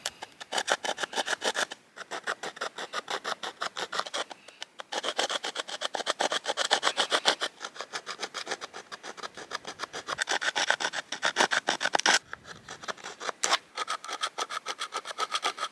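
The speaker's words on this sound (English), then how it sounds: "All I'm going to do is score the whole way around the gourd. It's kind of a sawing motion." Rhythmic back-and-forth rasping of a blade scoring around a gourd, steady strokes repeating close up, with a few brief pauses between bursts.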